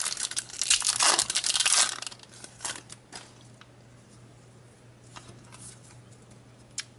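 Crinkling foil of Pokemon Diamond and Pearl booster packs being torn open, loud crackling for the first two seconds, then softer scattered rustles and card handling with a steady low hum underneath.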